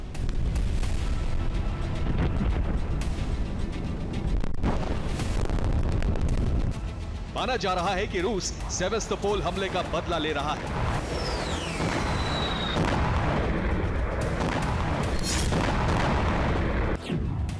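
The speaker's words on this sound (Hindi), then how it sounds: "कीव पर कई शाहिद ड्रोन से धमाके हो चुके हैं" Shahed drone strikes on Kyiv set off heavy booms and rumbling blasts, one after another, with a rising whistle partway through, all under someone narrating.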